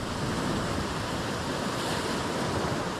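Continuous roar of sea waves washing onto a beach, loud and steady with a broad hiss of surf and some wind throughout, no talk.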